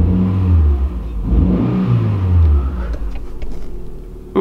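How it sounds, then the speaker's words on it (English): A car engine revs up and down in a few rising and falling surges, close and fairly loud, with the pitch sweeping through each rev before settling into a rougher idle. "Look at this little counter whenever I rev the engine."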